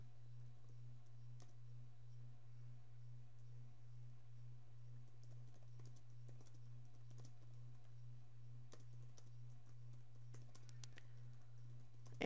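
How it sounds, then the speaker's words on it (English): Someone types on a computer keyboard in scattered bursts of faint clicking keystrokes over a steady low electrical hum. "And I'm typing something."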